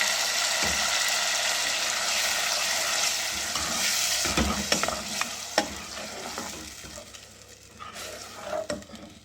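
Tomato paste sizzling as it hits golden-fried masala in a pan for a lauki chana dal, with steady, loud frying hiss and occasional spoon stirring and scraping throughout.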